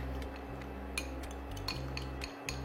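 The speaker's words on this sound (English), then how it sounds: "I'm going to add in my vanilla and then my cornstarch and whisk that up" A whisk in a bowl mixing a cornstarch slurry with vanilla and apple juice, giving quiet, irregular clinks and taps of metal against the dish over a low background hum.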